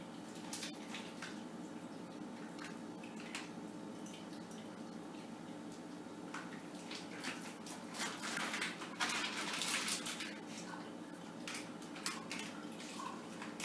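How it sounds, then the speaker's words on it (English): Fruit juice drains from a packet of berries, faint trickling and dripping with small wet squishes that grow a little busier partway through, quiet and close. "I'm draining the berries."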